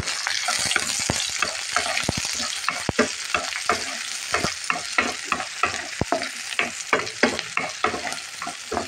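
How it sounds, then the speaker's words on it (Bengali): Chopped onion fries in a wok under a constant close sizzle while a utensil scrapes and taps the metal in a quick, regular stirring rhythm, with no talking. "পেঁয়াজটাকে একটু ভেজে নেব।"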